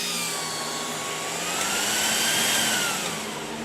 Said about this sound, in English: You can hear the fan speed go up with that.